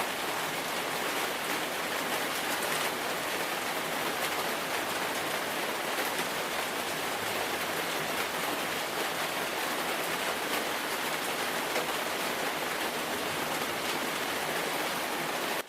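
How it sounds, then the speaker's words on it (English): Heavy rain and wind during floods in China, a loud, continuous broadband roar of pouring water with no breaks, steady and close throughout. "wind and rain battered everything in their path"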